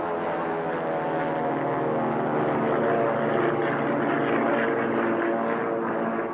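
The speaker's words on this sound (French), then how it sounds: "Quatre vagues de chasseurs et de bombardiers vont se succéder." Steady, loud droning roar of World War II fighter and bomber piston engines in archival footage, a thick propeller hum holding level throughout with no talk over it.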